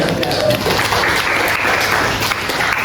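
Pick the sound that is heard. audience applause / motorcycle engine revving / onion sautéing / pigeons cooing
audience applause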